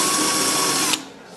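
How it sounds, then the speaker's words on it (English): Power drill spinning an 8mm bit to mark hole centres in metal, a steady loud whir with a faint high whine that cuts off abruptly near the end, leaving quiet room tone. "I'm going to mark the center of each hole with an 8mm bit"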